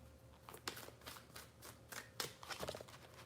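Tarot cards are shuffled by hand, quietly and close up, in a series of quick riffling bursts and soft slaps of the deck spread across a few seconds.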